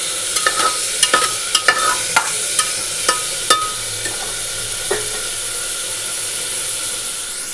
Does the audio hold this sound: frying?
yes